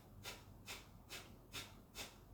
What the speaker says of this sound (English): breath of fire, which is like a panting through the nose